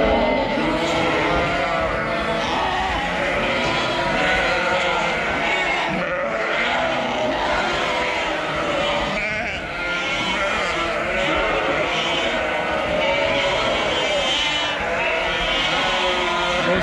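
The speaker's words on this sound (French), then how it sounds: "on va mettre les petits agneaux avec leur mère" Sheep and lambs bleat constantly on a farm while two-month-old lambs are put back with their mothers to suckle, a dense, loud overlapping chorus of many animals close by.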